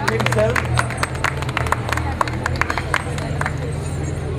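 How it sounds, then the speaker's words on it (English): A walking tour group in Tallinn, Estonia claps outdoors, a fairly brisk patter of hands over crowd murmur, with a guide's voice mixed in. "Let's give him a round of applause."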